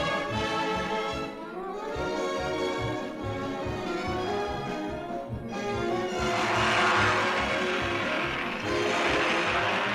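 A 1950 Alfa Romeo race car pulls away after a pit stop, its engine note climbing through a loud, rasping pulsing drone as it accelerates and passes close by.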